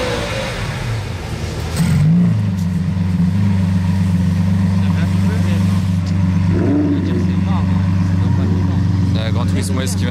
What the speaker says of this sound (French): La Gran Turismo S qui vient de démarrer